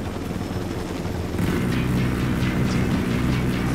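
A helicopter in the video game Ghost Recon Wildlands, its rotor and engine giving a steady low droning thrum that grows louder and fuller partway through, with no talk over it.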